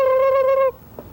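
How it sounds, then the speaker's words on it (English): A tom turkey gobbling, one loud near call that breaks off abruptly, then a faint brief sound after a short pause. "turkeys aren't terribly bright and can't even reproduce on their own, but kids like them anyway."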